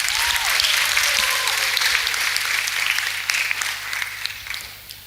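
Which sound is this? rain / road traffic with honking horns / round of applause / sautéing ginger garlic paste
round of applause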